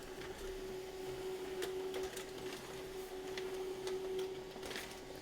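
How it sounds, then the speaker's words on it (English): An HP LaserJet M209dw laser printer printing a document hums steadily at close range with a constant mechanical whine and faint clicks, no voices. "We just printed the document that was over here."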